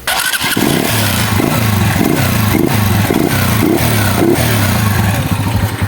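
A Mustang Fosti 150cc motorcycle engine idles loudly and steadily, close by, with a rhythmic chugging and occasional clattering blips.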